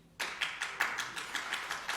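A small audience at a press conference claps steadily, with about a dozen evenly spaced, fairly soft claps following a sudden start.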